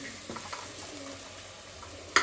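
Vegetables sautéing with chili powder and garam masala for a vegetable egg kurma, a soft steady sizzle with faint stirring, ending in a sharp clink of a utensil against the pan.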